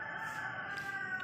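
A chicken calls close by in a steady, drawn-out tonal cry lasting the whole brief moment, fairly faint, with no talking.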